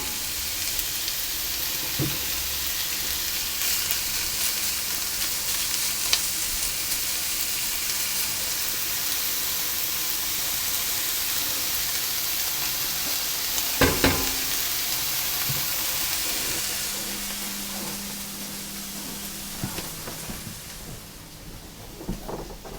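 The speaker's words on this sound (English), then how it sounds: "I'm going to cover those and cook them for about 5 minutes" Veal shanks cook in a covered pan, giving a steady, even sizzle and hiss that runs throughout, with a few faint clinks and knocks near the end.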